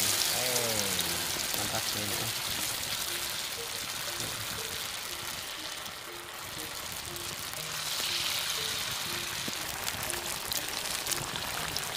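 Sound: frying gadung tuber slices in hot oil

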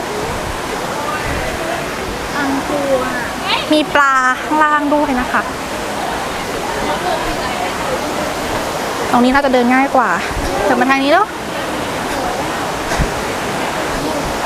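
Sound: Phlio waterfall rushing water

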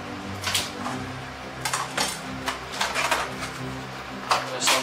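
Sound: cut oranges and lemons thrown into lobster cooking pot

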